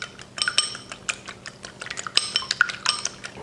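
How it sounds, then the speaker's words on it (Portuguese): Three eggs are beaten briskly in a bowl, a fork or whisk clicking and clinking rapidly and unevenly against the sides, close and fairly quiet. "eu tenho aqui 3 ovos que eu vou bater muito bem"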